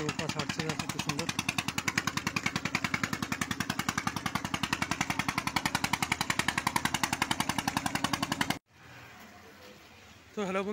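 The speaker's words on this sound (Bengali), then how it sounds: "নৌকা ছাড়ছে দেখো কি সুন্দর" A boat engine chugs as the boat leaves a river ferry ghat: a rapid, steady, loud thumping pulse up close that cuts off abruptly near the end, leaving a short quieter stretch before more noise returns.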